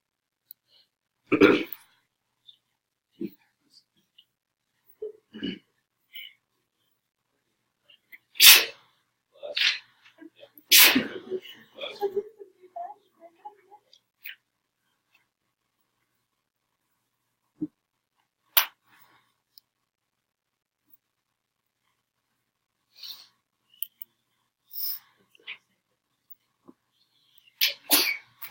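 Several sharp sneezes burst out in a quiet classroom, spaced irregularly over a long stretch of near silence, with a few faint clicks and small sounds in between.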